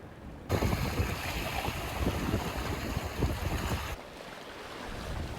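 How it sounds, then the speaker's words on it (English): Wind gusts across a rocky stretch of Northumberland coast at Newbiggin while shore fishing for cod, a loud, rough buffeting rush that holds for a few seconds and then eases to a softer steady blow. "the wind's picked up"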